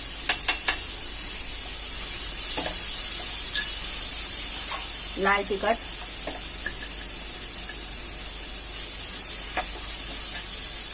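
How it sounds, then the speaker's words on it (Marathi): Turmeric and red chili powder fry in hot oil as a tempering over cooked tomato, giving a steady, close sizzling hiss with a few brief stirring scrapes and a short spoken phrase. "मसाले फोडणीवर छान भाजून घ्यायचं"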